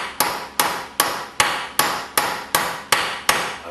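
Hammer tapping on a stuck screw, nine sharp evenly spaced metallic taps about every 0.4 seconds, close and loud with nothing else around them.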